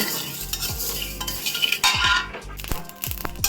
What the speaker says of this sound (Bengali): আমার 5 ফোড়নটা ভাজা হয়ে গেছে